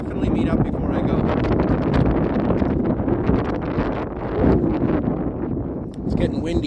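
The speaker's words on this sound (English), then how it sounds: "It's getting windy here." Wind gusts outdoors on a hillside climb near Sign Hill, buffeting the microphone with a steady low rumble that swells and eases, loud and continuous.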